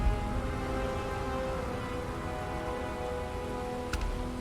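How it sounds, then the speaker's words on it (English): Steady rain falls in the video game Starfield, a dense, even patter on surfaces with constant hiss, fairly close and uninterrupted, with no speech over it. "It's raining."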